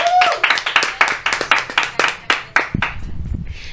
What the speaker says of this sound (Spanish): que iniciemos este programa con un fuerte aplauso